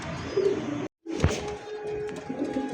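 Pigeons of fancy breeds such as Bombay and satin racers coo softly nearby, low burbling calls under faint background noise with a brief silent gap early on.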